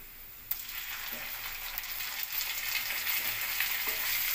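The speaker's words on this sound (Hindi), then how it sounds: "अब इसमें एक छोटी कटोरी अदरक लहसुन का पेस्ट डाल देंगे" Ginger garlic paste fries in a pan of oil while dum aloo is being cooked, giving a steady, close sizzle with a few sharper crackles and pops, with no voices over it.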